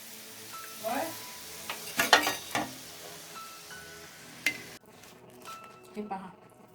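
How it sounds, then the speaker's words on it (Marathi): Vegetable strips frying in hot oil in a pan, a faint steady sizzle broken by clinks and scrapes of a utensil, with a brief quieter stretch near the end. "आता मी बाकीचे पण सर्व तळून घेते."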